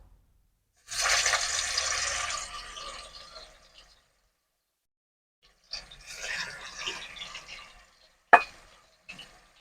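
Saal-type fish sizzling hard in hot oil in a home kitchen pan, two loud bursts of crackling spatter a few seconds apart with a sharp pop near the end, no talking.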